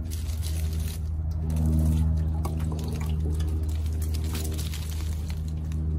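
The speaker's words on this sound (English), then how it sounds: "now you can simply water your plants like so" Liquid fertilizer solution pours from a watering can onto plants as a steady splashing and trickling stream over a constant low hum, continuous for several seconds without speech.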